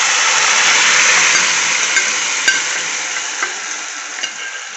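Minced mutton is stirred into lentils in a hot pan for mutton kheema, giving a loud continuous sizzle and hiss with occasional spoon knocks against the pan.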